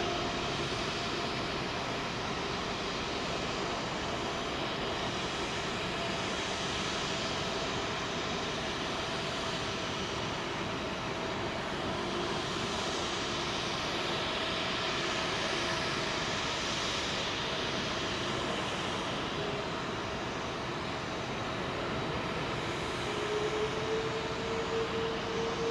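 An airliner departing London Heathrow's runway 27L, heard as a long, even engine roar from some distance, with a rising whine near the end, and no voices.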